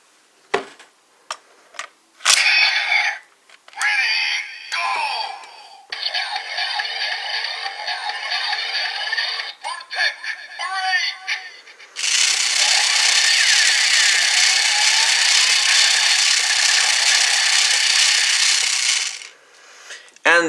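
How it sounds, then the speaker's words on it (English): Kamen Rider Build DX Drill Crusher toy with the Tank Full Bottle gives its Voltech Break finisher: a run of sharp electronic clicks and bursts, then a loud, sustained bright blast of synthetic effects and music for several seconds before cutting off. "And the sound for the Voltech Break also doesn't change"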